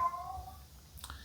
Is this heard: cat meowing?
yes